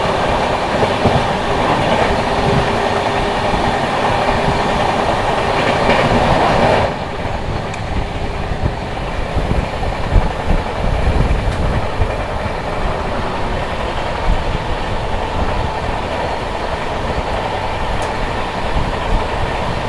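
Trains on a busy Delhi-area railway line, queued one behind another, rumble past with a steady clickety-clack of wheels over rail joints, loud and continuous for the whole stretch with no voices.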